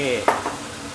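A brief spatula scrape and stir in a pan of chicken wings over a steady background sizzle, close by.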